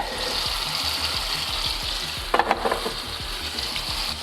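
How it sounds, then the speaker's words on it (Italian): Tomato sizzling and frying in boiling oil for spaghetti all'assassina, a loud continuous hiss with a few sharper spatters midway, close up and without talk. "qui ci abbiamo buttato il pomodoro direttamente proprio nell'olio bollente"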